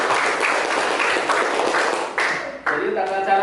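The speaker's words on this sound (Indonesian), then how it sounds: "Tepuk tangan kelompok 1." A classroom of students applauds a presenting group, a dense wash of clapping and voices that runs steadily for a few seconds, then breaks off and thins into scattered talk.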